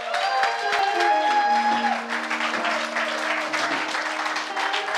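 Loud, sustained clapping from a large crowd at an Easter church conference, dense and steady throughout, with sustained musical tones ringing underneath.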